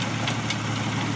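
A tractor engine running during wheat sowing, a steady, close mechanical drone with a low throb, heard alone for a brief moment.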